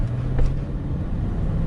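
Steady low V8 engine drone from a BMW E39 540i cruising on the road, heard from inside the car with a smooth, even rumble and faint road noise, no talk.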